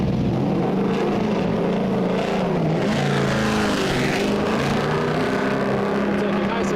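A drift car run with the throttle held wide open: a loud, sustained engine roar with shifting, wavering pitch and tyre and road noise, close and continuous throughout.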